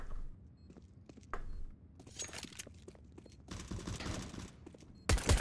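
Mag-7 shotgun fire in CS:GO, heard as several sharp gunshot bursts scattered through the clip, with a loud final blast near the end amid game noise.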